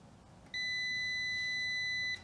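A continuity tester sounds a single steady electronic beep, held for about a second and a half, while a diode is being tested on the bench.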